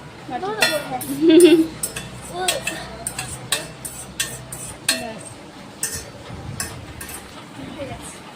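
Cooked Maggi noodles are poured into a bowl with irregular clinks and scrapes of a utensil against dishes, close and fairly loud, while voices talk softly in between.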